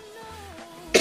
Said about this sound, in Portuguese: Foi mal, galera, tossi aqui.